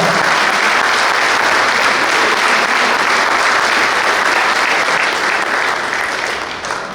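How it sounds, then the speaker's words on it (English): A lacrosse banquet crowd applauds the JV boys' coaches with loud, continuous clapping that fills the room at full strength before tapering off slightly at the very end. "so give them a round of applause"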